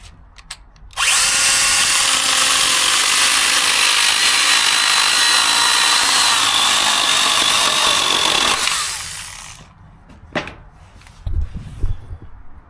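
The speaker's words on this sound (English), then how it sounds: "So let's test now and see how good this will cut through this decking board" A STIHL GTA 26 battery garden pruner chain-cutting through a wooden decking board, a loud, steady high-pitched whine lasting about eight seconds before winding down, followed by a few light knocks.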